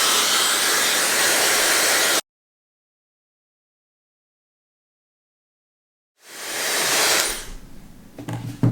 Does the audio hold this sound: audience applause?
no